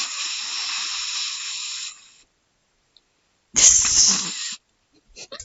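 Cats hiss and spit at each other in two bursts, a sustained hiss for about two seconds, then after silence a sharper, louder spitting snarl, followed by brief faint scuffles.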